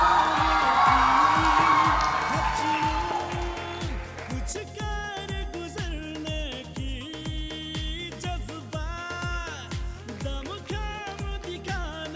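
Cheering, whooping and applause from a crowd at a Bollywood-style dance competition in Arunachal, loud for the first few seconds, then fading out beneath a pulsing music track.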